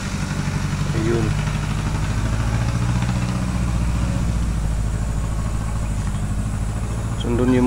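A motorcycle engine runs at a steady low idle-like thrum near farmland where maize is being harvested, continuous and close, with a faint rise at the end.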